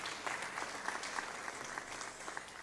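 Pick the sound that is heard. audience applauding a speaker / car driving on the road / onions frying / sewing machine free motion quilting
audience applauding a speaker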